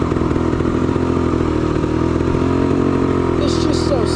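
A 1975 Yamaha DT250 vintage dual sport motorcycle climbs a steep, rocky, slippery mountain trail, its two-stroke engine droning steadily and loudly throughout, with rocks clattering beneath the tires.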